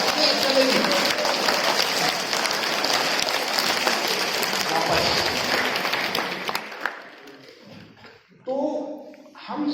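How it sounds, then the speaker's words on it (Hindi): An audience of students in a motivational session claps together in a loud, sustained burst lasting about seven seconds, then fades and stops before a person begins speaking. "तालियां बजाना है एक साथ"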